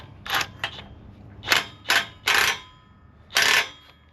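A tool is used to tighten the tool bar clamps on a ripper, giving about seven sharp metallic clicks and ratchet bursts in irregular clusters, close and fairly loud, with quiet gaps between them.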